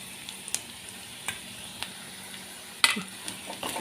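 Chopped betel leaves go into a pan of sautéing onions, giving a soft, steady sizzle with scattered clicks of stirring and a louder clatter near the end, with no talk.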